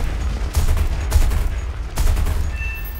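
Aircraft guns firing in the flight combat game War Thunder against a BF-109, three heavy low bursts of rapid fire spaced about a second apart over a constant engine roar.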